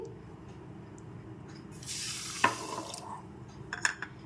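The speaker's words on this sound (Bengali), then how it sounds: "আমি যে বাটির মাপে চিনি নিয়েছি ওই বাটিরই এক বাটি জল দিয়ে দিচ্ছি" A bowl of water is poured onto sugar in a kadai to make syrup, giving a brief, faint splashing hiss lasting about a second amid quiet kitchen clatter, with no talk.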